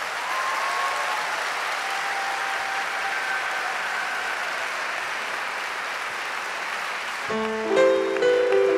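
A concert audience at Sava Centar claps in a dense, sustained roar of applause from a large hall crowd, fading slightly before a band strikes up its opening notes at the end.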